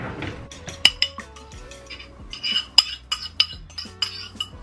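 Bread dough ingredients being mixed in a bowl, with scattered metallic clinks and taps of a utensil against the bowl and soft scraping between them, close and moderately quiet.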